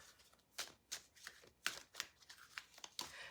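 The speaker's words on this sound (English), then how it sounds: "I'm going to use two separate tarot decks" Tarot cards being shuffled close by, a series of quick riffling bursts in an uneven rhythm, faint overall.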